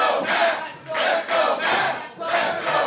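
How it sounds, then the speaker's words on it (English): Wrestling arena crowd at an NWA Powerrr show chants in rhythmic surges, three or four loud pulsing waves of cheering in quick succession. "Crowd behind Matt Taven here."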